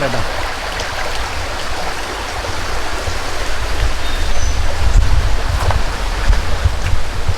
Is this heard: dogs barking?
no